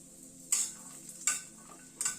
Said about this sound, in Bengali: কাজুটা একটু হালকা ভাজা হওয়ার পরে কটা কিশমিশ দিয়ে দিচ্ছি।